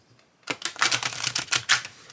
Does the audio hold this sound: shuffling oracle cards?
yes